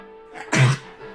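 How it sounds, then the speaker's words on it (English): A single sharp, harsh dog cough bursts out once, close and fairly loud, from a dog being checked for reverse sneezing. "That's not a reverse sneeze. That's a cough."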